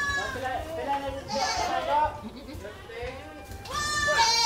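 Several goats bleat in wavering, nasal cries, one near the start and another louder toward the end, with farmyard voices and activity around them.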